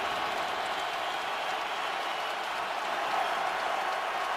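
Loud, steady roar of a packed stadium crowd at an NFL divisional playoff football game between the Packers and Cowboys, a continuous dense wall of noise with no pauses.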